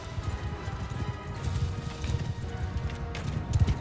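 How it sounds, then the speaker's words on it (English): Cavalry horses gallop in the medieval battle game Mount & Blade II Bannerlord, a dense, continuous drumming of many hooves with a low rumble, rising slightly toward the end. "here come the horse"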